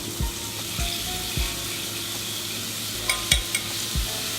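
Seafood with crispy skin frying in a pan, a steady sizzle running throughout with several soft knocks and scrapes as it is moved and flipped.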